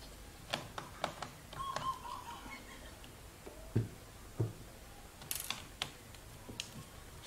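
A small screwdriver backs out battery screws inside a Lenovo V110 laptop, making faint, close ticking and light creaking clicks in short irregular bursts against a quiet background.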